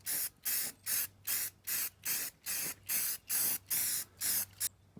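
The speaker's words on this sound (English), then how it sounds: "We got a coat of primer on." A spray can lays primer onto a truck frame in about a dozen short, even bursts of hissing spray, each separated by brief pauses, close and fairly quiet with no talking.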